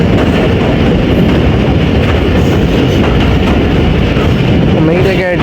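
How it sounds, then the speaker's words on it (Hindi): Tezgam Express passenger train running on the rails near the Ravi River, a steady loud rumble of wheels on track with faint clickety-clack throughout and a brief squeal near the end. "तो रावी रिवर से पास हो रही है ए टाउन तेज़गाम"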